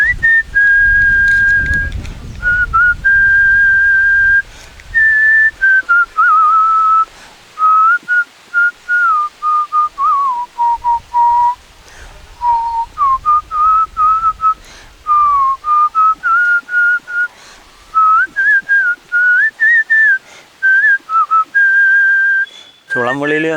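A man whistles a song melody solo, clear and close, with sustained wavering notes in a continuous tune broken by short breaths.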